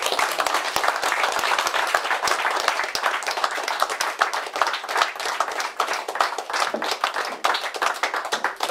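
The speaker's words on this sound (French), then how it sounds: "je vous demande une salle d'applaudissements pour nos conseillers départementaux, Jean-François Rénal et Fabienne Devez." Steady applause from a crowd celebrating newly elected departmental councillors in France, dense clapping that continues throughout without pause, fairly loud and close.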